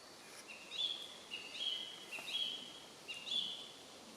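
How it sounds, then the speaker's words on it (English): A bird repeats a high, clear whistled phrase about four times at a steady pace, somewhat distant in a quiet outdoor campsite. "Nice and quiet, listening to the birds sing."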